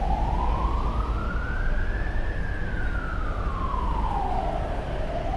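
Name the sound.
emergency vehicle siren on a Hong Kong street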